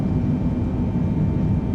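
CaptainSim 777F jet engines roar steadily at full takeoff thrust in a flight simulator game, a dense, constant rumble with no talking.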